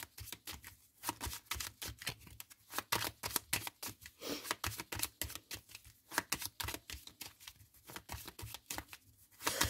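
Tarot cards are shuffled close up for a reading, giving a dense, continuous run of papery riffling clicks and slaps in quick bursts with no talking.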